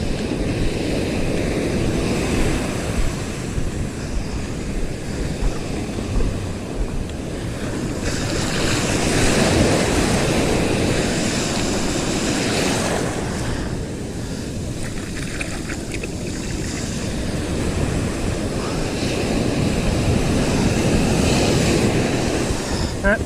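Ocean waves break and wash onto an empty beach in steady surging rolls, loud and close, with wind buffeting the microphone throughout.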